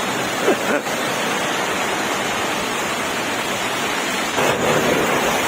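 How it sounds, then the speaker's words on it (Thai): Water pours down out of a pipe as a constant, loud, broadband rush, like a small waterfall, with no pauses. "นี่ครับผมดูแต่ท่อน้ำไหลลงแล้วครับผม"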